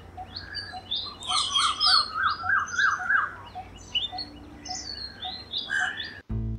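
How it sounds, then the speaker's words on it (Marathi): Bird calls in an urban nature park in Mumbai: a run of chirping, repeated notes close by, then scattered calls over quiet background hiss, ending in a short bump. "म्हणून याला मराठीत तांबट तर इंग्लिशमध्ये कॉपरस्मिथ बार्बेट म्हणतात"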